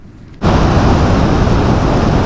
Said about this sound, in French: Il pleut bien